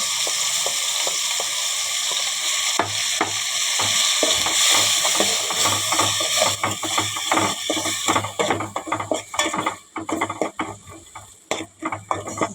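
Onion paste with masala frying for a Konaseema-style crab curry, a loud steady sizzle that turns choppy after a few seconds as stirring scrapes the pan in quick irregular strokes, with no talk.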